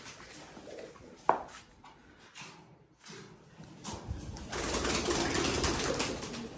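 Pigeons with feathered feet coo faintly around a loft or yard, with a sharp knock early on and a rising band of hiss and rustling later, with no talking.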